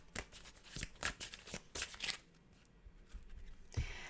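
A tarot deck is shuffled close by in a quick run of crisp riffling flicks, then a pause and a final snap of cards. It sounds soft and intimate, with no talking.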